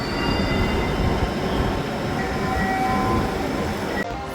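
A Dhaka metro rail train at a station gives a loud, continuous rumble and rolling roar with a faint high squeal, cutting off abruptly near the end.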